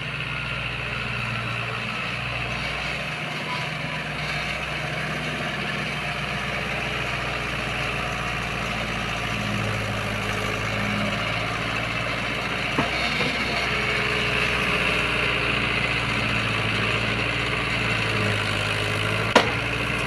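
A tractor engine idles steadily and close by on a farm, giving a low, even diesel rumble for the full length with only slight changes in level and no talking.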